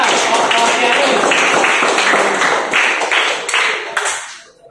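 Students in a classroom clap for a presenting group during a lesson on the causes of conflict, a dense, loud patter of many hands that holds steady and then tapers off near the end.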